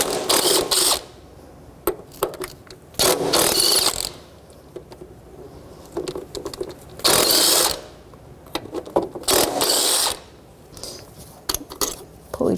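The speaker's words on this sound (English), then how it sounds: "It's 4 mounting bolts, 12mm socket. We're going to take them out." A ratchet with a 12mm socket works the four throttle body mounting bolts on a 2006-2012 Toyota RAV4, giving bursts of rapid clicking separated by short pauses, close and crisp.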